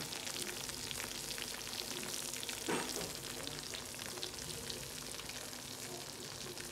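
Oven-baked creamy potatoes sizzle and crackle steadily in a home kitchen, a soft continuous frying hiss with no one talking over it.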